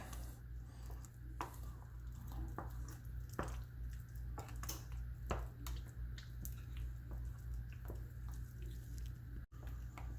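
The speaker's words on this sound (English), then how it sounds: "now we're just going to stir this all together until it's good and combined" Mint chocolate cheesecake mixture being stirred in a bowl, with soft wet squishing and scattered light clicks of the utensil against the bowl over a steady low background hum, no talking.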